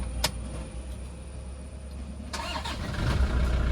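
A 2005 Toyota Innova engine starting, a short crank then the engine catching and settling into a low, steady idle, close by with no talk.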